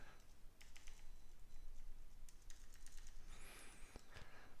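Computer keyboard keys tapped rapidly for navigation, a quiet, close, irregular run of light clicks with a faint high whine near the end.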